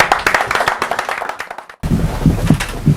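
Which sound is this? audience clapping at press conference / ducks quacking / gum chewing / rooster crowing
audience clapping at press conference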